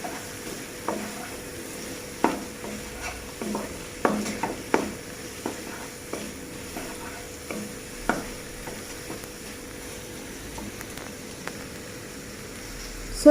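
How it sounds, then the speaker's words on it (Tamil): A spoon scrapes and taps against a pan while chili is stirred into a beef mixture for beef rolls, sharp scattered knocks over a quiet background sizzle. "இதை நல்லா மிக்ஸ் பண்ணி விடுவோம்"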